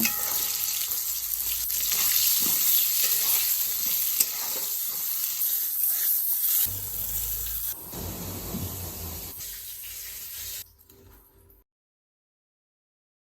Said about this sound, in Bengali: এবার এই গোটা গোটা পটলগুলো ছেড়ে দিচ্ছি তেলের মধ্যে পটলগুলোকে বেশ লাল লাল করে ভেজে নেব